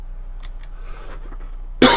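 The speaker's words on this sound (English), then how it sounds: "stupid cough" A single sharp cough bursts out near the end after a few quiet moments of faint murmuring.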